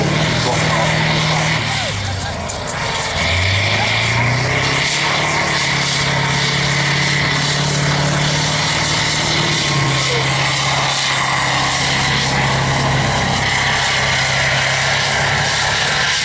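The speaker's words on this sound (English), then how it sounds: "Driving the vehicle today from APGU is Corporal Mundy, who's one of the mechanics that's actually employed up at APGU." An armoured military vehicle at the 2012 TankFest show at Bovington Tank Museum runs its engine in a steady, loud, low drone whose pitch dips and shifts over several seconds, set in an open outdoor space.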